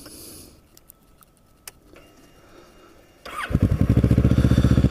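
Motorcycle engine starting and then running at a steady idle up close in North Cape May, a quiet outdoor stretch giving way to a loud, rhythmic pulsing exhaust for the last two seconds.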